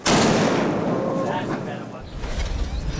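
Cannons fire aboard a superyacht carrying three tons of cannons, a single huge close blast that booms and rolls on, with a mechanical rattle and a deep rumble trailing after it.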